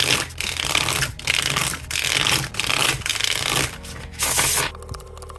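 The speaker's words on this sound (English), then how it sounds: "take your deck and shuffle and deal 5 cards to each player" A deck of playing cards being shuffled with the jokers removed, several loud riffling bursts in a steady rhythm with brief pauses between them, close and alone.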